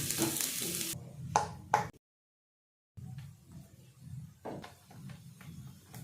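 A ragi adai cooking on a pan is flipped, sizzling softly in oil or ghee with scraping and tapping sounds, broken by a second of silence before quieter frying and light taps resume.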